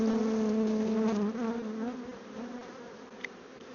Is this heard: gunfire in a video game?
no